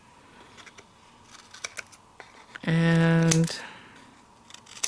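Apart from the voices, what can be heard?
cutting scrapbooking paper with scissors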